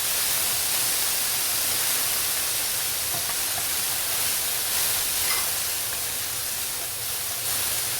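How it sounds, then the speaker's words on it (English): Minced ginger and garlic sizzle in a tablespoon of hot vegetable oil in a pan, making a steady, dense, continuous hiss that stays close and even throughout, with no talking. "I'll go ahead and throw in the minced ginger."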